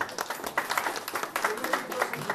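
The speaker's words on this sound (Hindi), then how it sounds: "उनके लिए जोरदार ताली बजाइए" An audience claps at the grand launch ceremony of a Bhojpuri film, the applause faint and uneven with distinct individual claps, while a voice talks over it.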